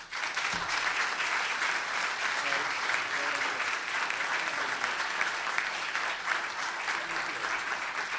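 Sustained, loud applause from an audience fills the hall at a public policy forum, welcoming Congressman Charles B. Rangel, with steady clapping throughout.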